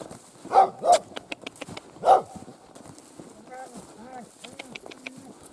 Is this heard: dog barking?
yes